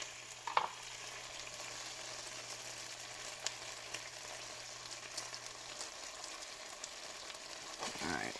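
A Cuban breakfast sandwich with scrambled egg fries in a pan, giving a quiet, continuous sizzle with a few small pops and faint scrapes near the end.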